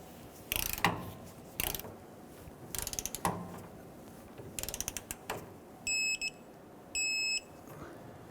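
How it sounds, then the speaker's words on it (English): Torque wrench tightening the upper rear shock absorber nut on a 2005-2021 Nissan Frontier: several bursts of quick ratchet clicks, close and clear, ending with two short steady electronic beeps as the set torque is reached. "We're going to torque the upper nut to"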